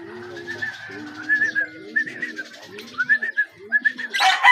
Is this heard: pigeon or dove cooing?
yes